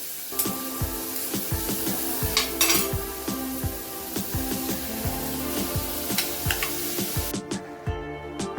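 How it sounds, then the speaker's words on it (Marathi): Tomatoes hit hot tempering oil for dal khichdi, giving a steady low sizzle under repeated sharp scraping and clinking of a spoon against the pan, with a brief spray-like burst near the middle; no one speaks. "आता टॉमेटो टाकलेत"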